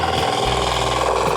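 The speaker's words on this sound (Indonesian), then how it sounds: "untuk kapasitas mesinnya, dia memiliki kapasitas mesin diesel 10 HP dengan torsi yang sangat besar" Diesel engine of an FTI2010DE mini four-wheel tractor, 10 HP, working a field, runs as a steady, loud, close rumble with a fast, even chugging pulse throughout.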